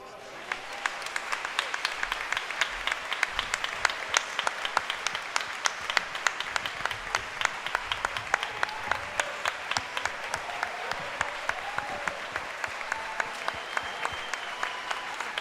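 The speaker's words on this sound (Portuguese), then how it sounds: "e o teu povo te aplaude" A church congregation applauds steadily throughout, a dense continuous wash of many hands clapping, with voices sounding over it at moments.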